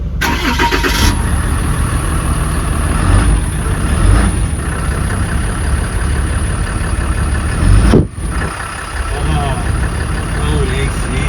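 Diesel truck engine running steadily nearby at an outdoor auction, a continuous rumbling idle under the voices of people talking.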